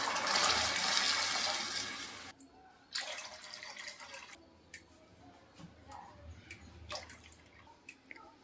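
Water being poured into wheat rava for upma, a loud, splashy pour that runs for about two seconds and then gives way to quieter dripping, scattered splashes and handling sounds, all close by with no speech.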